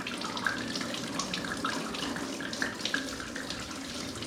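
Coolant gushing from the leaking radiator of a 2005 Yamaha Thundercat 600 (YZF600R) after it is opened with a screwdriver, a steady close splashing pour like a running tap, continuous for the whole stretch with no talk.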